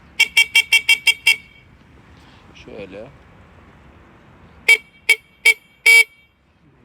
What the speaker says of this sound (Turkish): Kornamızı bir kez daha duyalım